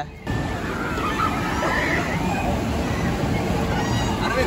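Water sloshes and splashes continuously in a Thanjavur theme park wave pool, a loud, dense wash of surf with crowd babble mixed underneath.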